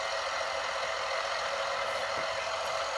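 A tractor engine in the Farming Simulator video game drones steadily at a constant, moderate level for the whole stretch, with no talk over it.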